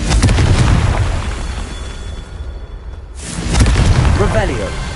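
A Confringo fire spell blasts in Hogwarts Legacy, a loud booming explosion with a rushing roar that cuts off abruptly, then a second burst swells up with a whooshing tail.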